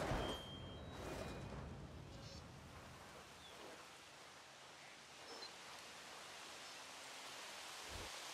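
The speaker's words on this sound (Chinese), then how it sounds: "为什么我玩的游戏第一天都下雨啊？" Rain falls on a park landscape in Jurassic World Evolution as a faint, steady, even hiss with no clear breaks, and a few soft thuds surface now and then.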